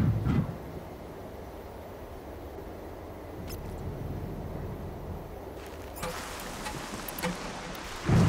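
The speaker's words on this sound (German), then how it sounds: "Der Regen wird meine Spur erstmal verwischen." Steady rain hisses in the Horizon Zero Dawn video game, a continuous even patter throughout, with a few brief thuds and louder bursts at the start and end.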